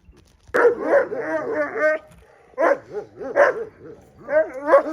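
Several dogs bark and yelp in short repeated bursts, close and loud, with pauses between volleys and some whining tones.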